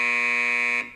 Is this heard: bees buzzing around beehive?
no